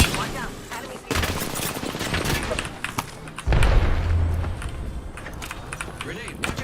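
Video game gunfire in a firefight, with rapid bursts of shots and heavy booms layered over game radio voice lines, loud and dense throughout.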